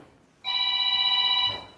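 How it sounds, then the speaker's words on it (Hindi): A mobile phone rings during an offline tailoring class, with a steady electronic ringtone of bright sustained tones that starts abruptly, holds for about a second, then cuts off. "भाई इसको साइलेंट करो फ़ोन को।"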